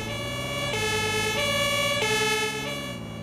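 A police car siren in the emergency-services video game Notruf Hamburg wails loud and steady, its two alternating tones switching back and forth over a constant engine drone, with no voices.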